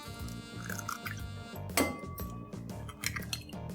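Two eggs are cracked into a bowl for a chocolate cake batter, a sharp shell crack and clink followed by soft drips and wet liquid sounds, close up amid light clattering of kitchenware.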